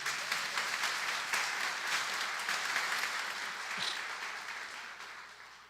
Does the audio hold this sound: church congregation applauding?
yes